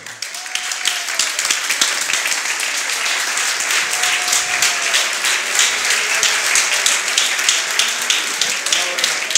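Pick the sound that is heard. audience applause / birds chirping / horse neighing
audience applause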